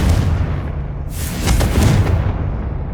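Magic spell blasts from Bombarda and Confringo in the Hogwarts Legacy video game land as deep booming explosions, a rumbling burst around the middle swelling into sharp crackling impacts, loud and close over a constant low roar.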